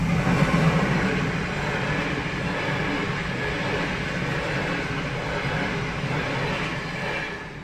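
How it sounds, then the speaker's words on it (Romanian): A train rolls through a railway level crossing as the second train in a row, a steady, loud rumble of rail traffic that holds evenly for the whole stretch, with no voices over it. "vine și al doilea tren la o distanță de vreo 5 minute față de primul"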